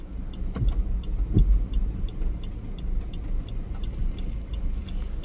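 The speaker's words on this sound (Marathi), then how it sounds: "ते बघा अर्टिगा इली सरसर" A Maruti Ertiga drives past on a flooded, rain-soaked road in Devgad, a low engine hum with tyre wash through water, at moderate distance and fairly quiet, with a faint rhythmic ticking over it.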